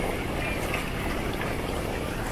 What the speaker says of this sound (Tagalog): Lakas ng hangin guys